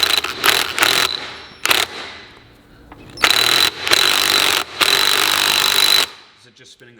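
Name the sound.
impact gun driving specialty socket on Porsche 911 drivetrain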